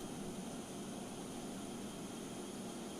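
An airliner takes off in Microsoft Flight Simulator, its jet engines giving a constant, broad roar that stays even and loud without a break.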